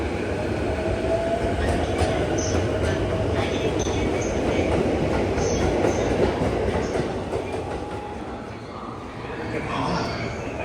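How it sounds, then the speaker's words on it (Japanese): A Yamanote Line commuter train at a Tokyo station platform, a steady rolling rumble with rail clatter and brief squeals, fading slightly near the end while station announcements play over it. "14番線次の山手線は高田馬場駅に到着しております。"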